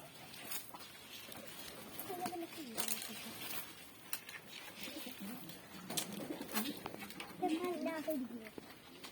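Pigeons cooing around a feeding spot where wheat is scattered, soft low coos rising in a few bursts over steady outdoor background noise, with scattered wing flutters and clatter; a voice is heard intermittently.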